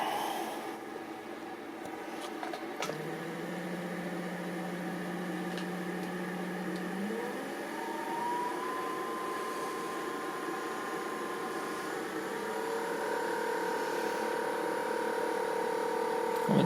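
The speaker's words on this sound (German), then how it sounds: "Jetzt hier ein kleines bisschen Druck bauen wir im System auf, um die 5 Bar, um das Öl im Kreis zu pumpen" A small hydraulic pump in an RC model excavator circulating oil at low pressure, a continuous electric whine and hum whose pitch steps up partway through, running alone and steady.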